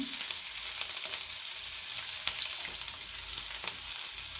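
Chopped onions and slit green chilies frying in hot oil for a Chettinad mushroom gravy: a steady, close, even sizzle with faint crackles throughout, no talking.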